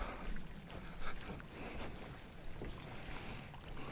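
Water trickles and flows from a spring trough beside a mountain footpath on a Trabzon highland trail, a faint, steady outdoor wash with soft rushing and no talk.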